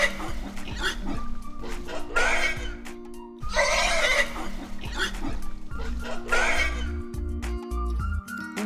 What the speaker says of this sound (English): That is the sound of a wild boar.